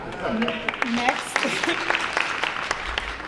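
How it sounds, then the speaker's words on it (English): Audience applause at a community Black History Month celebration: a steady patter of many hands clapping, moderately loud, while a voice talks over it throughout. "Please give her a round of applause"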